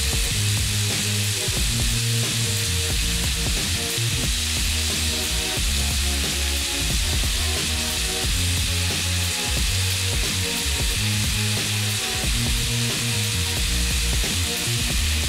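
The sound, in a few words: minced garlic sizzling in pan for steak stir fry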